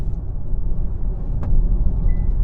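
A Kia EV3 electric car accelerating from 40 to 70 mph, heard as a steady low road-and-tyre rumble inside the cabin, with no engine note and no voices.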